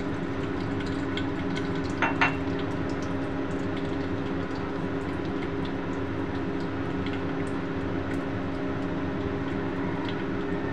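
Oil heating in a pan for cooking small local fish gives a continuous close crackling sizzle with a steady hum beneath, plus a brief clatter around the middle, no voices.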